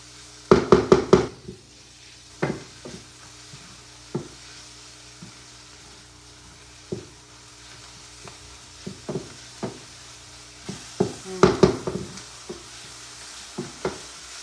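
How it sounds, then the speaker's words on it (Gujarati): Spices with red chili powder roast in hot oil for Gujarati palak moong dal: a low, steady sizzle broken by clusters of sharp spoon knocks and scraping as the pan is stirred, close and alone. "હવે આપણે એને 2 મિનિટ શેકાવા દઈશું"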